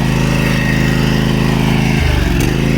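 A lawn mower engine runs steadily and loudly throughout, a close, continuous drone whose pitch shifts briefly near the end, with no talk over it.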